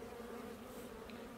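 Bees drone at an apiary hive in a close, constant buzzing hum that holds steady through the whole short moment.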